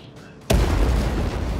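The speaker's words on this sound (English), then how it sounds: "I've been shot from the rear by a T-90 that I can't see" A tank in a combat video game takes a hit from a T-90 shell, a single sudden loud boom followed by a sustained heavy rumbling roar.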